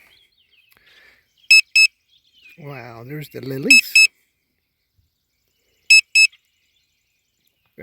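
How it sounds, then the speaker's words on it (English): Morning alarm beeping in short paired electronic chirps that repeat after a pause, loud and close, with someone briefly talking between them. "8 o'clock in the morning alarm."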